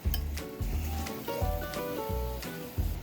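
Salted skinless chicken thigh coated in extra virgin olive oil sizzles in a pan over medium heat, a steady soft frying hiss punctuated by clinks of a utensil against the pan.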